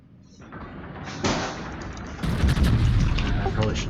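Naval guns firing high-explosive shells in a warship video game, heavy booming salvos building from a dull thud to a dense, loud roar of cannon fire, with a voice talking over parts of it.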